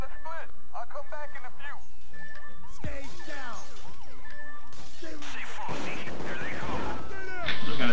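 Gunfire in the video game Payday 2 during a jewelry heist: a dense run of sharp shots in the back half, mixed with game sounds and voices.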